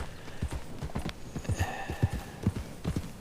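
Horse hooves clip-clop in a steady trotting rhythm in Red Dead Redemption 2, close and clear, with a brief high whinny-like tone partway through.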